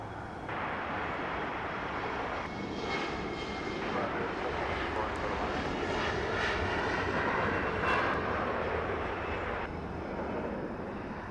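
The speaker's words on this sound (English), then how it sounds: "we saw the E175 take off on 24 right" An Embraer E175 jet takes off from runway 24 right at Los Angeles, a sustained engine roar with a rising whine, heard under a person talking at moments.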